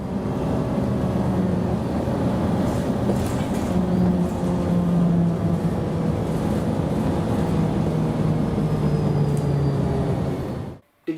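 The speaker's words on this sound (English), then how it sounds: "here's how the Gillig Electrics hum" Gillig battery electric bus, a newer 4000 series model, giving off a steady propulsion hum with a continuous drone and faint tonal whine, loud and even for about ten seconds before cutting out abruptly.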